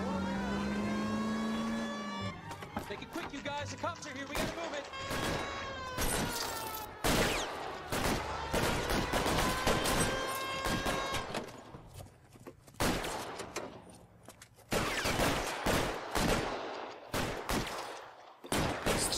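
Rapid gunfire crackles through a 1940s street shootout in L.A. Noire, with bursts of sharp shots in clusters over a car engine revving and whirring at the start.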